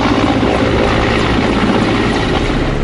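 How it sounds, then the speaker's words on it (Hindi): A military helicopter roars over mountains in a flood-hit disaster zone, its rotor and engine a loud, constant, close throbbing drone with no voices. "पहाड़ों पर हेलीकॉप्टर की लगातार गर्जना एक उम्मीद है"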